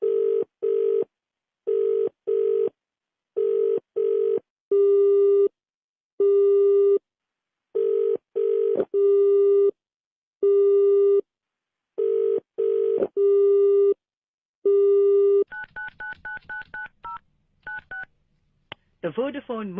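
Telephone keypad tones beep in quick clusters as a mobile number is dialled, followed by a brief two-tone signal pattern, clear and alone.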